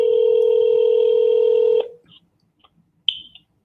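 A landline telephone emits a steady dual-tone dialing signal for nearly two seconds, then cuts off, followed by faint clicks and a brief higher beep near the end.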